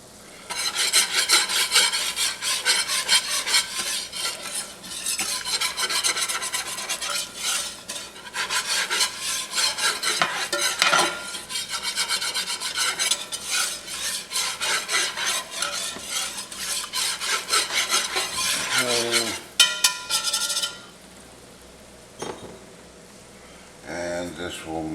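Flour is stirred into a cooking roux for Cajun chicken and sausage gumbo, with loud, continuous rhythmic rasping scrapes of a utensil against the pot, pausing briefly near the end.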